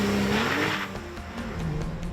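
A 2021 Porsche 911 Turbo Cabriolet launching hard on all-wheel drive, its rear engine roaring and rising in pitch, loud and close, with a brief tire squeal and no talking.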